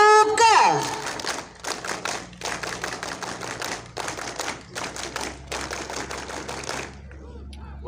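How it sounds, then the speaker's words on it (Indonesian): Two rounds of rhythmic Pramuka scout claps from a group at the closing of a 2025 scout jamboree in Pagedongan, Banjarnegara, sharp repeated bursts following a brief spoken call at the start. "2 kali tepuk pramuka"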